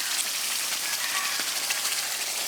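Fried chicken pieces go into a pot to cook a village-style chicken roast, giving off a steady, even sizzling hiss close by that runs unbroken and without speech.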